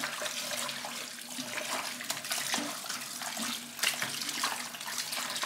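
Tap water runs and splashes while beef tripe is washed in a kitchen sink, an uneven hissing flow with sloshing and small knocks, fairly close and continuous.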